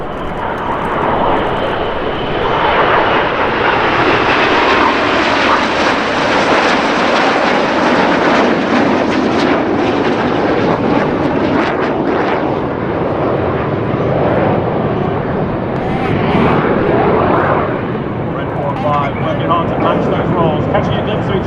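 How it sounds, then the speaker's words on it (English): Red Arrows RAF jets performing a flying display at EAA AirVenture Oshkosh, a loud continuous jet roar that swells and fades as the formation passes overhead, filling the whole stretch with steady engine noise. "The abort call from Dusty lets the team leader know that the aircraft are rolling around behind."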